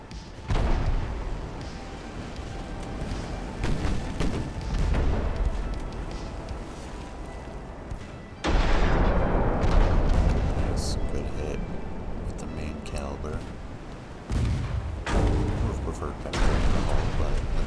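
Naval gunfire and shell impacts from warships in the Ultimate Admiral: Dreadnoughts video game, loud booming blasts that rumble and swell, with sudden heavy bursts near 8 and 14 seconds over a continuous battle din.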